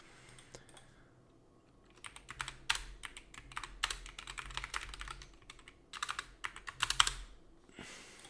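Someone types a network switch configuration on a computer keyboard, with quiet, close, uneven bursts of key clicks that pick up into a busier run of typing before trailing off.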